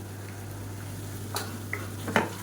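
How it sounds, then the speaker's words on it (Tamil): Ginger garlic masala paste sautéing in a pan for a South Indian side dish, a soft steady sizzle under a constant low hum, broken by a few brief spoon scrapes and stirs. "நல்லா வதக்கிக்கலாம்"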